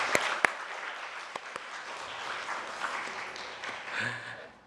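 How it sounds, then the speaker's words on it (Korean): A church congregation claps steadily for several seconds during a Sunday service, the applause filling the room before tapering off at the end. "다 같이 박수로 환영하면 좋겠습니다."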